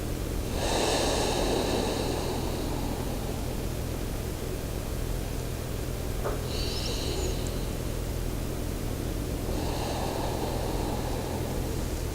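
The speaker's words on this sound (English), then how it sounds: "Take slow, deep breaths." Slow, deep breathing during a post-run yoga stretch for runners, with three long airy breaths spaced several seconds apart over a constant hiss of background noise.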